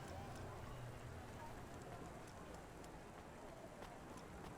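Steady rain falls in the cyberpunk city game Cloudpunk, a dense, even hiss with occasional small drips and ticks, continuous and moderately loud throughout with no pauses.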